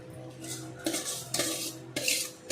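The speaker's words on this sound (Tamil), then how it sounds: "இப்போ பொரிச்சு வச்சுருக்க பூந்தி எல்லாத்தையும் சக்கரை பாகில் சேர்த்துடலாம்." Fried boondi stirred into sugar syrup in a pan for boondi laddu, with a few loud scraping, clinking strokes of a metal spoon against the pan, each followed by softer sticky mixing.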